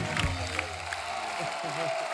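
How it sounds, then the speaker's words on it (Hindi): A television studio audience gives loud applause for the guests: a dense, steady wash of clapping from a crowd, with a voice speaking over it. "एक बार जोरदार तालियां हमारे मेहमानों के लिए।"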